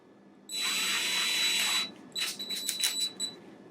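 A power drill whirs steadily for over a second, stops, then runs again in several short bursts while drilling into a Jesse Luggage Odyssey lid to install a rack.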